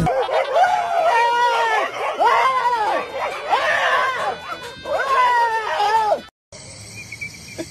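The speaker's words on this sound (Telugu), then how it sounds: "కుక్కలు ఉన్నాయి." Several dogs howl and bark near a parking area, long wavering howls overlapping in loud repeated bursts that end abruptly.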